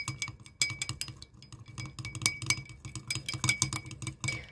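Spoon stirring olive oil and honey in a drinking glass, with quick irregular clinks and scrapes of metal on glass close up that come in bursts and continue throughout.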